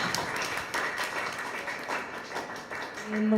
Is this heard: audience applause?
yes